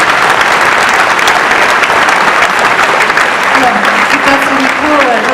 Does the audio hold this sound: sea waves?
no